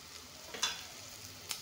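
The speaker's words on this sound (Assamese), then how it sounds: "এতিয়া বইল কৰি থোৱা গ্ৰীণ মটৰখিনি দি দিম।" Boiled green peas go into a sizzling frying pan for a carrot recipe, a quiet soft sizzle with two brief bright splashes of frying as they land, faint and close, no voices.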